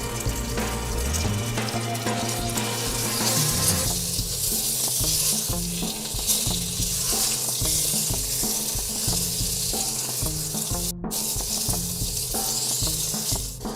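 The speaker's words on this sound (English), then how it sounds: "to quickly fry off our pumpkin and garlic a little bit more" Pumpkin and garlic fry in a pot with a loud, continuous sizzle and crackle that stays steady throughout, along with occasional clinks and stirring noises and low music underneath.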